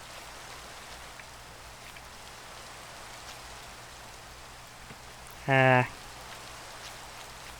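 Rain falling in the Minecraft video game, a soft, steady patter throughout, with a brief voice cutting in near the end.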